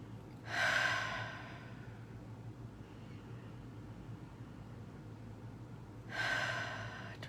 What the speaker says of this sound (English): some nice deep breaths